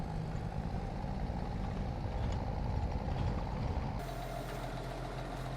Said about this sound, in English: Listen to the growl on the engine here though, it's just absolutely amazing.